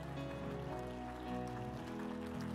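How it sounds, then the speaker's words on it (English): A church congregation claps hands during a Sunday evening service, a dense, steady patter of applause over sustained organ or keyboard music. "give the Lord a great big hand clap"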